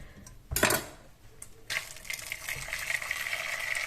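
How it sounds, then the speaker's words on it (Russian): Boiling water poured from a kettle over cross-scored tomatoes in a kitchen bowl, a short clatter and splash followed by a steady, hissing stream of liquid filling the dish. "И заливаем кипятком на несколько секунд."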